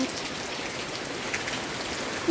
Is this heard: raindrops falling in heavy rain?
yes